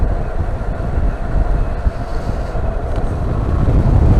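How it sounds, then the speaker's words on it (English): Heavy, buffeting wind roar on a moving Yamaha Tracer 700 motorcycle fitted with a windscreen extender, loud and continuous with a low rumble and no voices. "there's just too much wind straight in the face"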